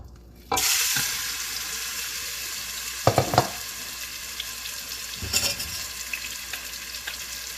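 Chicken is poured into a hot pot for one-pot Cajun chicken alfredo and bursts into a loud, steady sizzle that keeps going, with a couple of brief clattering stirs partway through.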